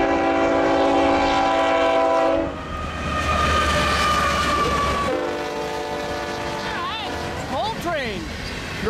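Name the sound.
Union Pacific freight train passing with horn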